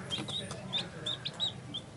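Newly hatched quail and chicks just taken from an incubator give several thin, high peeps in quick succession, faint and close.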